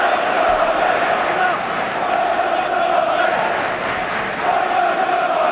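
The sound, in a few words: football crowd chanting at Chelsea v Tottenham FA Cup match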